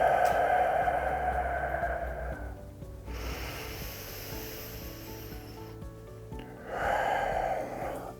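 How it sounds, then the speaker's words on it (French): Deep breaths are taken during a face yoga exercise, with a long, airy inhale-like rush, a quieter hiss in the middle, then another breathy swell. The sounds are close and soft and carry a faint rubbing texture, with no talking. "On respire profondément."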